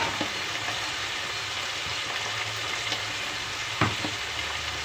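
Onions sautéing in a pan with salt and curry leaves for radish sambar, a steady close frying sizzle with a few light clinks of stirring and no talk.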